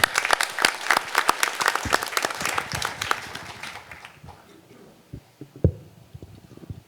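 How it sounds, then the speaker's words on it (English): Applause from an audience at a delegate assembly, sharp individual claps at first that thin out and fade after a few seconds, leaving scattered taps and quiet room noise. "They deserve a round of your applause."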